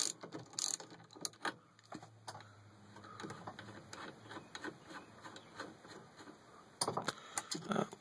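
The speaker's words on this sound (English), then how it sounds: "I'm going to slowly back this nut off." A nut is slowly backed off on a GM steering column during teardown, giving quiet ratcheting clicks and metallic mechanical ticks at an irregular pace, with louder clattering at the start and near the end.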